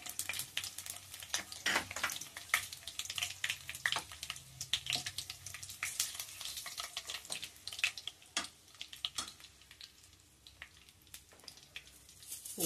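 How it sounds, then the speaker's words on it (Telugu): Dried red chillies sizzle and crackle in hot oil in a pan for okra fry, with steady frying hiss and intermittent sharp pops and stirring scrapes, close and fairly loud throughout. "ఆయిల్ కాగిన తర్వాత ఎండుమిర్చి వేయాలి."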